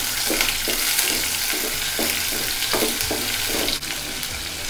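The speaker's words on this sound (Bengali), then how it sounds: "শুটকিগুলো তো তেলের উপরে ভেজে নিতে হবে।" Dried fish (shutki) frying in hot oil in a pan, a steady close sizzle with a run of soft rhythmic stirring scrapes underneath.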